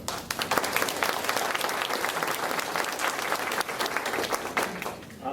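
An audience at a reading event applauds with dense, sustained clapping for several seconds, close and loud, the clapping holding steady before easing slightly at the end.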